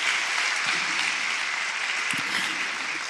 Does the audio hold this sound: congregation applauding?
yes